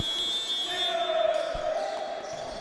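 A basketball game buzzer sounds, a long steady electronic tone over crowd noise and a few bouncing thuds.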